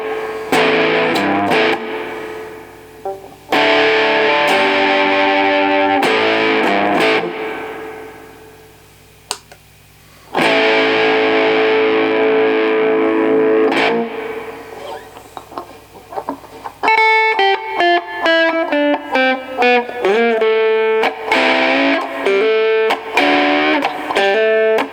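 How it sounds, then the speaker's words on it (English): Electric guitar played through heavy amp distortion, loud sustained chords and riffs with brief pauses, then choppier staccato notes toward the end. "Let's see what the distortion's like."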